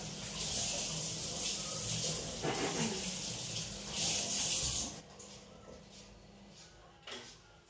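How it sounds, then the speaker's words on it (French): Tap water runs while a kitchen worktop and knife are rinsed, giving a close, continuous splashing hiss that stops partway through, leaving quieter, fainter clatter. "je vais rincer mon plan de travail et mon couteau"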